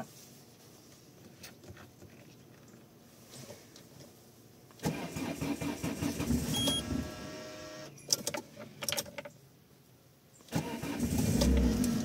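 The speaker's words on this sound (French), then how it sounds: "Est-ce que cette voiture à l'éthanol va démarrer au froid?" An ethanol-fuelled car engine cranks in the cold and catches after a quiet stretch, revving unevenly, dropping back, then roaring up again near the end.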